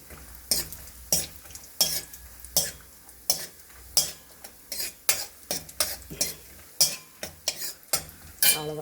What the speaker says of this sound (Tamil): நெய் காஞ்சிடுச்சு, முந்திரியை போட்டுடலாம்.